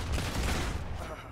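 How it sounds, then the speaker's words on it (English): Shotgun turret gunfire in the Modern Combat 5 video game: a dense, loud, continuous burst of blasts lasting about a second with no pauses. "Was that another shotgun turret? Or did that actually fire all of those?"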